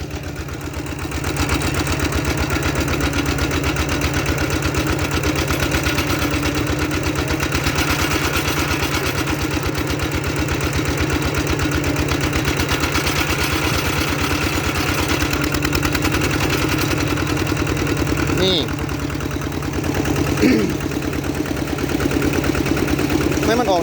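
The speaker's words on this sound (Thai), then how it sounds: "เดี๋ยวเร่งเครื่องอีกหน่อยก่อนนะ" A loud motor engine runs hard and steadily as the machine pushes through shallow water in an old pond, its droning rumble continuous throughout with a brief dip and a small surge near the end.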